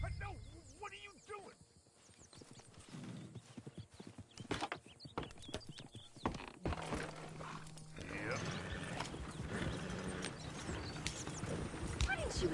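Horse hooves clip-clop steadily in a PS4 video game, a rhythmic trot running through most of the stretch amid other game sounds, with a person talking over it at times.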